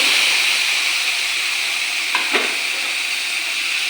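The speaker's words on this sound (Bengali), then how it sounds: "কাটা রাখা শীতের সবজিগুলি আমি ঢেলে দেব" Cut winter vegetables such as broad beans, radish and tomato poured into a hot pan set up a loud, continuous hissing sizzle, with a couple of brief scraping touches midway.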